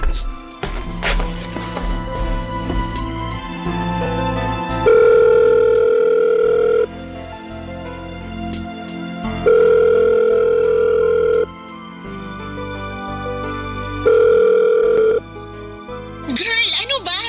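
A cellphone sounds a repeating electronic tone in steady pulses of about two seconds with short gaps, ringing indoors in a house bedroom over low background music, then a brief chirp at the end.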